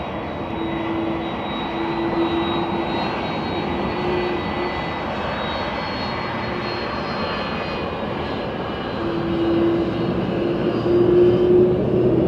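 A jet airliner lands on runway 28 left at Dublin Airport on a windy morning, its engines roaring as a loud, steady drone with a rising whine near the end, no talk.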